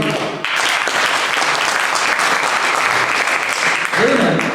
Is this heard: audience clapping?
yes